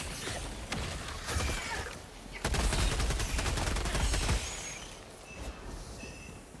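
Helldivers 2 gunfire during a bug outpost fight: rapid bursts of automatic shots, a sustained loud stretch in the middle, then sparser trailing shots.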